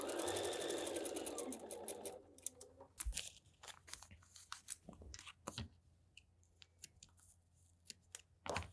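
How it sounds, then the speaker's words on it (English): A sewing machine stitches foundation paper piecing along the line in a fast, dense whir for about two seconds, then stops. Scattered clicks, taps and rustles of the fabric and paper being handled follow close by, with no talk. "Let's do a few stitches before, stitch on the line, stop a few stitches afterward."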